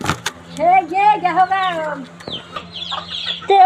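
Hens cluck and squawk close by in short, uneven bursts, with talking in the background.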